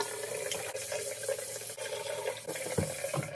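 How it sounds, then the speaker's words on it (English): Running water from a tap washes and rinses glass jars, a soft continuous splashing stream with faint clinks, quiet and close with no voices. "Next, wash and rinse the jars thoroughly, so they are clean of contaminants,"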